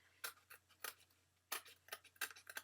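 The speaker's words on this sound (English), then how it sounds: "take your little scissors and you trim off the excess" Small scissors snip excess paper off a card base in a quiet crafting setup, a series of close, crisp cuts in irregular bursts over a faint low hum.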